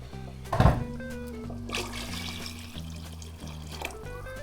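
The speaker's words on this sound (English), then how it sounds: "we need to add some plain water into this stock" Plain water is poured from a container into a pot of stock for boiling potatoes, starting with a splashy burst and settling into a steady, faint pour while a low hum runs underneath.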